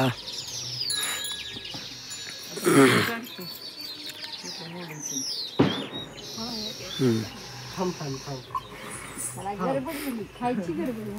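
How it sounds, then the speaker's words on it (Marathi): Sparrows chirp in quick high bursts, scattered through the clip, while people talk nearby over them during Bail Pola bullock festival preparations. "चिमण्या गपरे बाबा"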